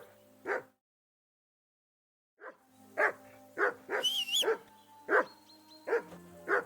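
Dog barking in the video game Kingdom Come: Deliverance II, a string of sharp, close barks in an uneven rhythm, one early bark then a pause before a steady run of about eight more, with a faint whine partway through.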